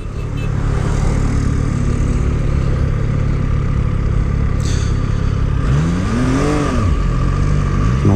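Loud, constant engine roar from a new motorcycle on the road, close and steady, with the pitch sweeping up and down near the end as the throttle is worked.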